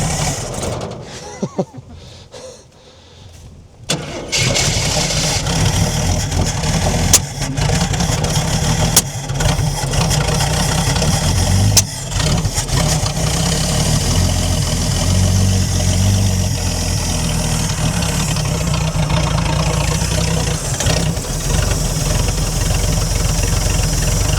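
A 1968 Ford Falcon engine, parked since 1990, idles loudly and a little roughly in a steady uneven rumble with occasional knocks, after a brief dip at the start.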